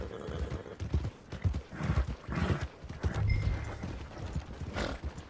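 Horse hooves clip-clop in Red Dead Redemption 2, with steady, moderately close steps plodding on toward the stables; a faint whinny and light ambient rumble sit underneath.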